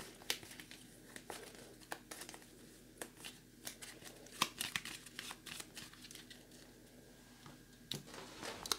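A deck of cards being shuffled for a tabletop wargame, with dense, quick papery riffles and clicks spread throughout at close range against a quiet room.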